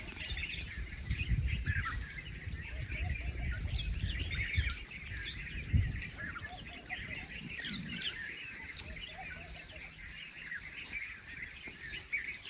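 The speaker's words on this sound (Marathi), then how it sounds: "इकडला पक्ष्यांचा आवाज ऐका फक्त" Birds call and chirp in a valley in the hills, with dense overlapping tweets at moderate distance and some fowl-like calls mixed in, over a low rumble of wind or handling noise and no speech.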